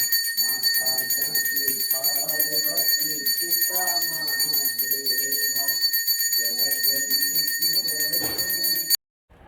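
A puja bell is struck loudly and rapidly during a Diwali Lakshmi puja at home, producing a sustained bright ringing throughout, while voices talk and call out beneath it until it stops abruptly near the end.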